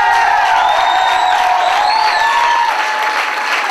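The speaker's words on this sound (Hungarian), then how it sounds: "Taps az egész korosz kapja!" Audience at a youth talent competition giving applause for a choir, dense steady clapping with scattered cheers and whoops, loud and sustained, with a faint musical tone running underneath.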